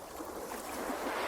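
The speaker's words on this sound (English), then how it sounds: "These waves are loud as shit." Loud ocean waves wash continuously with steady broadband roar and rushing water, a constant surf wash close by with wind noise and no pauses or talk.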